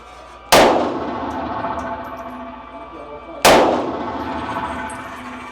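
Two loud gunshots at a shooting target, sharp cracks about three seconds apart, each with a ringing decay, over a quiet outdoor background.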